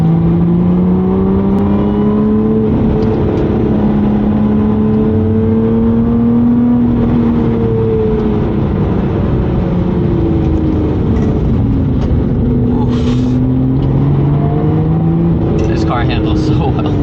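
A Lotus Evora GT engine pulls hard uphill in sport mode, a steady loud drone rising and falling in pitch through the gears, with someone talking over it throughout.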